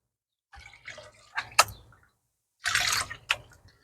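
Muddy water from gold paydirt trickling and splashing in short bursts as it is poured off, with drips between pours, close by and fairly quiet.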